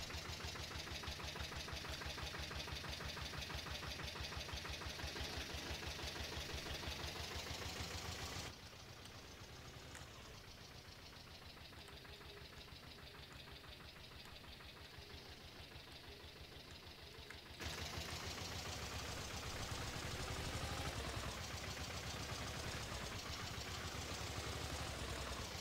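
A tractor engine in the Farming Simulator 22 video game, running at a steady mid-pitched drone while spraying herbicide on a corn field, dipping quieter midway before returning to full level, with no talking.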